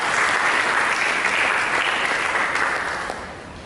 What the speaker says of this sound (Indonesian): Mari kita berikan tepuk tangan bagi Tuhan.